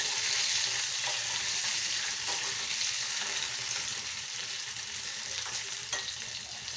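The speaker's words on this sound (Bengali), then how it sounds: "কাঁচা কলাগুলো আমি ভালো করে একটু ভেজে নিলাম।" Raw green plantains frying in a pan, a continuous bright hiss and sizzle of hot oil with small crackles and occasional stirring scrapes, close and steady, with no voices.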